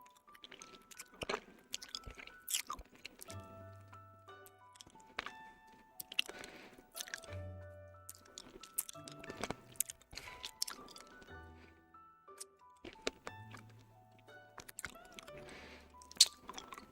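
Candy canes being chewed and crunched up close, with scattered crisp bites, sticky wet mouth sounds and small clicks in an irregular rhythm, quiet and intimate with no talking.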